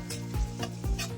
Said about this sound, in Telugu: అదే కళాయిలో ఇంకాస్త ఆయిల్ వేసుకొని సన్నగా తరిగిన ఆనియన్స్, పచ్చిమిర్చి కాసేపు కలుపుకుంటూ ఫ్రై చేసుకోవాలి.